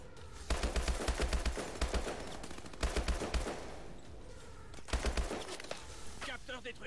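Gunfire in Call of Duty Advanced Warfare, with repeated bursts of rapid automatic shots in three clusters of loud, dense cracks that come and go, with someone talking underneath.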